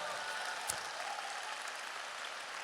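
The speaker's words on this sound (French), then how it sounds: "Que ceux qui le croient applaudissent bien fort." Soft, steady applause from a church audience at a Christian talk, heard at a distance, with a faint broadband patter that holds evenly the whole time and carries no voices.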